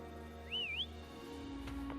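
A single short, bright whistle in a video game rises and dips in a smooth wavy line before stopping, heard near and clear over a faint steady hum, with a soft tone near the end.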